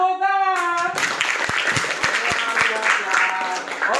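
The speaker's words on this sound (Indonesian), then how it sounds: "Tepuk tangan." Children clapping in an Indonesian classroom lesson, a burst of scattered, uneven applause with a few distinct sharp claps, following a sung or drawn-out voice and mixed with lively children's voices.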